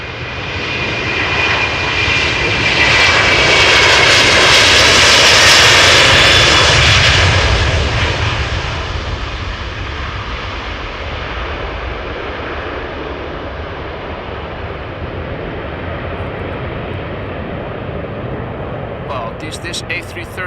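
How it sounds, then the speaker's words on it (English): A KLM Airbus A330-300 jet takes off at Amsterdam Schiphol, its engine roar building to a loud peak and then fading into a steady distant rumble, with no talking. "KLM flight 651, Airbus A330-300, 11 years old"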